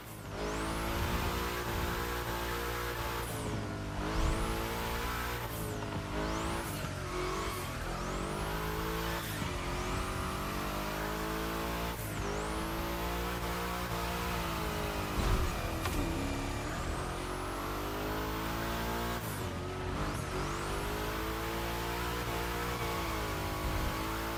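Video game car drifting in The Crew Motorfest, engine revving and falling with throttle blips while tires squeal through repeated slides, loud and continuous with no talk.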